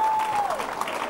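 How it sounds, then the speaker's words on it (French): A congregation applauding at a faith service, brisk crowd clapping that comes in strongly with a brief tonal whine and voices underneath. "Applaudissez pour Jésus le Seigneur."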